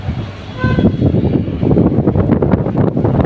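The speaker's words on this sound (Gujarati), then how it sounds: "ચારે બાજુ ખતરનાક હવા પવન ચારે બાજુ માટીની ડમરીઓ ઉડી રહી છે" A strong dust storm roars and buffets continuously, rumbling low and loud as it batters the surroundings and blows dust clouds with no pause.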